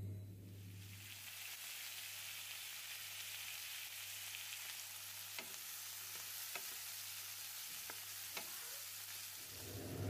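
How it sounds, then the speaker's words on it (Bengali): Prawns frying in mustard oil in a deep frying pan, a soft, steady sizzle under a low hum, broken by a few faint ticks and pops, with no speech. "চিংড়ি মাছ আমি ভেজে নিয়েছি"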